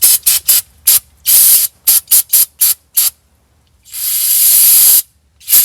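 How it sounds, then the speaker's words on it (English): Aerosol carburetor and brake cleaner sprayed onto a 1972 Ford F100 engine: a rapid series of short, loud hissing bursts, then a longer continuous spray after a pause and one final quick burst, close up. "spray it with some carburetor cleaner and brake cleaner or something"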